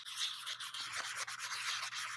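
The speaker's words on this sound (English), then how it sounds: "I'm going to scuff that up with my sanding block." A sanding block scuffs the smooth surface of a plastic model part for a 30-inch Tantive IV, giving close, quiet, steady back-and-forth rubbing strokes with no talk.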